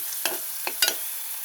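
Onion sautés in hot ghee in a pan, a steady close sizzle broken by three quick stirring scrapes.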